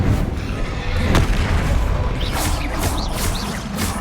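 A Confringo blasting spell explodes in Hogwarts Legacy, a loud booming blast with crashing debris. Further rumbling bursts follow in quick succession, and no voices are heard.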